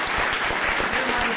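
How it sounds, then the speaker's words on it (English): Audience applause fills a full-house musical theatre during the stage musical Taboo, a dense, steady wash of clapping heard up close for a brief moment with no voices over it. "big round of applause, Rachel."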